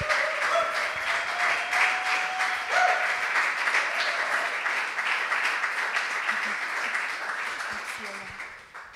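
Steady, dense applause from an audience at a poetry and music cabaret evening, sustained for the full stretch, loud and close, with a faint held tone and murmured voices underneath.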